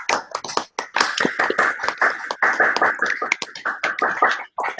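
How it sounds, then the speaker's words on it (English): Sustained applause from webinar participants, dense overlapping claps and hand taps filling nearly five seconds with brief gaps, fairly close and steady, no talking over it. "I want a big, huge round of applause for all of our Vivamk stars"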